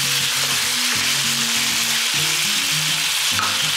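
Chicken and halved potatoes frying in a pot as they are mixed, a loud continuous sizzle with stirring scrapes and low rumbling underneath, no talking.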